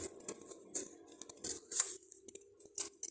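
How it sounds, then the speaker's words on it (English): Scissors snip repeatedly at paper card letters being fussy-cut by hand at a craft table, giving short crisp cuts in an uneven rhythm, close and fairly quiet, with no talking. "I'm going to cut these apart."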